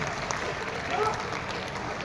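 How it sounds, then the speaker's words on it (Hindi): Audience applause at a kavi sammelan poetry gathering in Sonipat, Haryana: steady, dense clapping from a crowd lasting about two seconds, with voices mixed into the noise. "आओ कन्हैया जी तैयार खड़े, जोरदार तालियां राधिका के लिए।"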